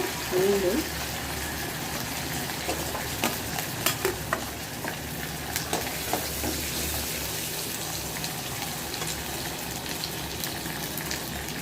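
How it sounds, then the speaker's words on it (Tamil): Garlic and curry leaves sauté in oil in a pan, making a steady, moderate sizzle with occasional stirring scrapes, and a voice talks faintly underneath. "பூண்டும் சேர்த்து நல்லா வதக்கி கொடுக்கலாம்"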